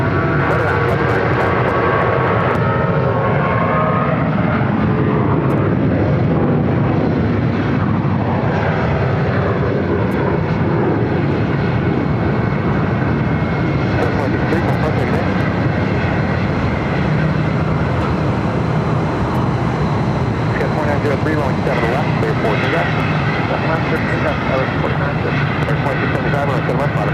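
American Airlines Boeing 737-800 jet at Phoenix airport, a loud sustained engine roar with shifting whine tones rising and sweeping, close by, with voices talking over it throughout.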